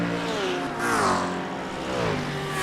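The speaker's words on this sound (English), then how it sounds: "Some great noises from these GT3 cars, isn't there?" GT3 race cars roar around the Long Beach street circuit in a sim racing game, engines revving up and down through gear changes with a loud, rising and falling whine, several cars close together.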